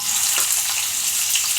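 Garlic, pepper, ginger and white onion sauté in a hot pan, giving a bright, steady sizzle and crackle with a few soft stirring scrapes, close and loud, no voices.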